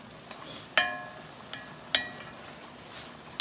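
Mushrooms releasing liquid as they cook in a cast iron pan, a soft steady sizzle under several sharp metallic clinks of a utensil stirring against the pan, close and fairly quiet.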